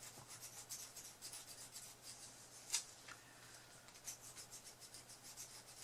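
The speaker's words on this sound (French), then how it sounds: "j'aime bien me servir des limes, ça va très bien" Metal hand files rasping over a cast phone holder made of jesmonite, a run of quick, steady rubbing strokes close by with one sharper scrape partway through, no talking.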